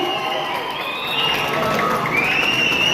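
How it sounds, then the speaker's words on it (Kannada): Audience applause and cheering for Umesh sir at a ceremony honouring senior Kannada actors, a dense, steady wash of clapping and crowd noise lasting throughout, fairly loud with some shouts mixed in. "ದಯವಿಟ್ಟು ಮತ್ತೊಮ್ಮೆ ಜೋರಾದ ಚಪ್ಪಾಳೆ ಉಮೇಶ್ ಸರ್ಗೆ"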